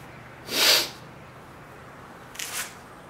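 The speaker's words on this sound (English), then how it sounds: "I'm gonna sneeze." A sharp, breathy sneeze up close in a pottery studio, followed a couple of seconds later by a softer sniff or second burst in a quiet room.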